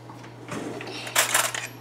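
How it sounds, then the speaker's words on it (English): Fork stirring ingredients in a bowl while making baked goods, a few close, bright clinks and scrapes of metal against the dish, growing louder toward the end, with no talk. "Stir it with that fork."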